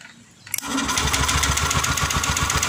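A motorcycle engine is cranked with its electric starter: a short burst of clicks, then a loud, fast, rhythmic chugging that continues steadily to the end.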